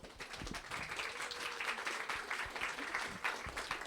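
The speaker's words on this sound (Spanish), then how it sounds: "Por favor, un aplauso para ella." Audience applause for the author Claudia Amador at a Café Relata event, a steady, moderately faint patter of many hands clapping throughout four seconds in a room.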